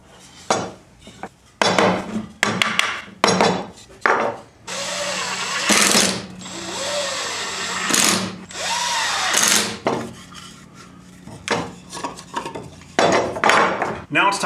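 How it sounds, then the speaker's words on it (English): A power drill whirs through pallet wood in several short bursts, drilling and countersinking holes, mixed with clattering and knocking of tools and boards between runs. "Drill and countersink a couple holes on the long piece"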